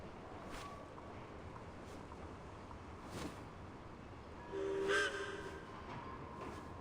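A train rumbles past in the video game Genshin Impact, in the snowy region of Snezhnaya: a steady, even rumble throughout, with a louder, briefly tonal swell near the end.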